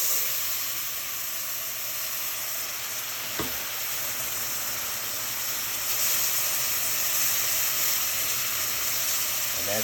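Steady, loud hissing and sizzling of steam as warm water is added slowly to a hot pan of brown gravy, continuous throughout with a brief clatter partway and a slight surge later.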